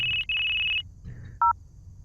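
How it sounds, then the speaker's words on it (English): A phone rings in the video game Necrobarista: two long bursts of electronic trilling ring close and loud, followed by a short two-tone beep, over a low murmur and with no one speaking. "the phone's ringing."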